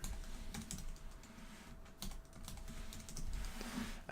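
Someone types a password on a computer keyboard, with a quiet, irregular patter of key clicks at close range and no talk.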